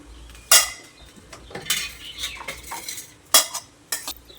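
Cooked egg rice stirred and spread in a wide pan with a metal spoon, giving scattered clinking scrapes and two sharp knocks against the pan, close and alone with no talk.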